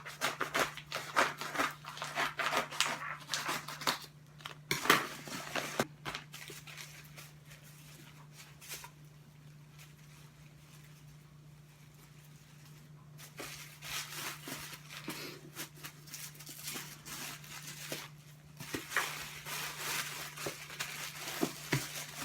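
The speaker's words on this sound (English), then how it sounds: "I think I'm just going to have to cut the package." A book package is cut open, with bursts of crinkling and scraping packaging material, quieter in the middle, over a constant low hum in an indoor room.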